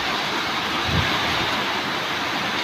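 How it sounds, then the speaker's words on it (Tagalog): Heavy evening rain pounding on roofs during a strong downpour, a steady dense roar of falling water with no voices over it. "Tunog pa lang sa mga bubong ang tubig ng dala ng ulan na to."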